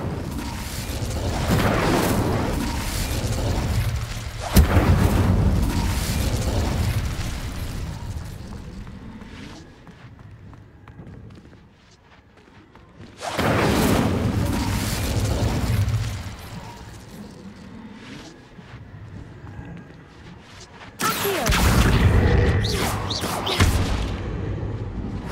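Incendio fire spell cast repeatedly in the video game Hogwarts Legacy, heard as three loud, booming bursts of flame, each followed by a roaring decay, spaced several seconds apart.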